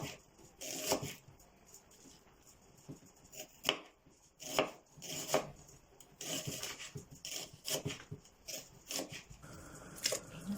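A knife chops food on a board in irregular bursts of quick, sharp taps, close by, with brief pauses between runs.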